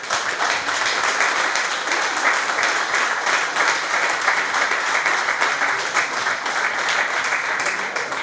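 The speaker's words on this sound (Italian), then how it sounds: "un applauso va anche a loro" Sustained audience applause at a football club's 50th anniversary celebration in Sovramonte, a dense, steady wash of many hands clapping at even loudness throughout with no pauses.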